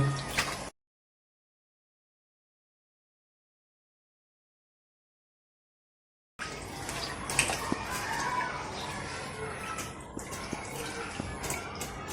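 Duck meat is rubbed and rinsed in water two or three times. A short burst of wet handling gives way to a long silence, then continuous splashing, squelching and dripping close by.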